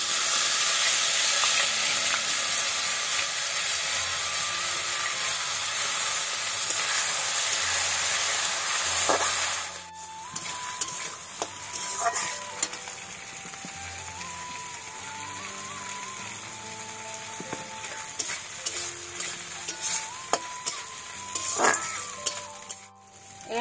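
Soaked chini atap rice goes into a hot pan for muri ghonto and sizzles in a dense, hissing crackle that gradually eases. Scrapes and clinks of stirring follow, with no talking.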